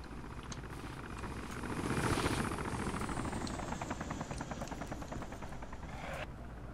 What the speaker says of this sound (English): Chopper buzzing the airfield up here.